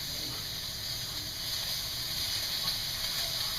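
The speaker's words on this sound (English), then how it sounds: "there is my ground beef, and I'm just going to fry that over medium heat and get that all brown" Ground beef frying in a pan over medium heat, a steady, even sizzle with a bright hiss and faint crackles, continuous and close for a few seconds.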